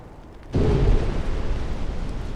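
A torpedo slams into a battleship's hull in a naval warfare video game, setting off a sudden deep, loud explosion that cuts in abruptly and then rolls on as a sustained rumbling roar.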